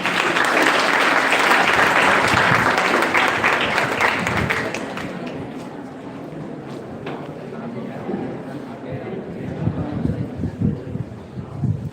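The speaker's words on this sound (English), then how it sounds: "Please welcome him with a huge round of applause." A big round of applause from an audience at an Energy Conservation Day event welcoming a guest lecturer, loud and dense at first, then thinning into scattered clapping with some murmuring and wind noise.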